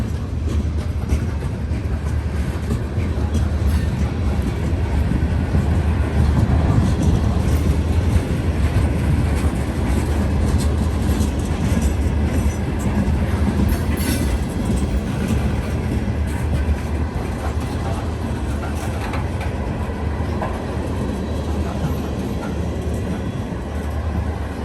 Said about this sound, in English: Westbound rock train. All loaded.